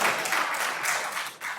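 Audience clapping at a city plan commission meeting, a dense steady patter of many hands that dips briefly near the end and then picks back up.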